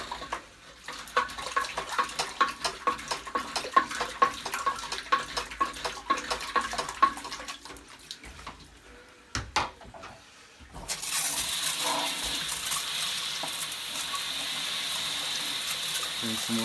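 Hot water runs and splashes into a Hotpoint Supermatic Deluxe S9414 washing machine during scrubbing, a busy broadband gush with scrubbing strokes at first, then a steadier, louder rush of pouring water.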